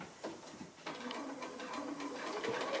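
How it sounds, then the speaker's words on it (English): A sewing machine runs steadily, stitching rows of quilt squares together, a soft continuous mechanical whir at low volume with small rhythmic ticks, with no voices. "So I'm just sewing my 3 little rows of the squares together."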